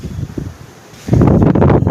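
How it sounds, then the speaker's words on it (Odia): Strong wind blows outdoors, rushing and buffeting close against the microphone, softer at first and then surging louder in roaring gusts. "ପବନ କେତେ ଜୋର ହେଉଛି"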